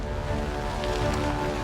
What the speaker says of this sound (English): Experts analyzing the black box tape believe it's the sound of ice crystals hitting the aircraft.